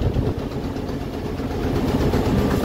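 Motor boat engine on the Kalindi river near Taki, turning at the river mouth by the Sundarbans, giving a steady low drone that stays close and even throughout, with no talk.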